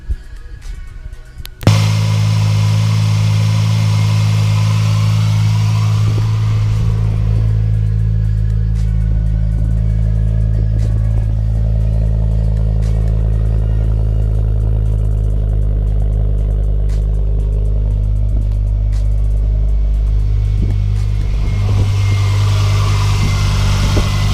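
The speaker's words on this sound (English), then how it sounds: "that is the engine purring like a kitten, absolutely fine, no issues at all" A Ford Focus ST Mk2 engine idles close by with a steady, low rumble after a brief clatter at the start, running smoothly and evenly throughout after new spark plugs are fitted.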